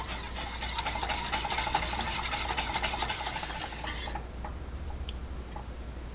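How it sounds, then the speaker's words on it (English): Cocoa ice cream base is whisked steadily in a pot, giving continuous rapid scraping and clinking of the whisk against metal for about four seconds before stopping, leaving a faint low hum with a few light taps. "The cocoa powder will form way more clumps, so you do need to whisk this one a lot more"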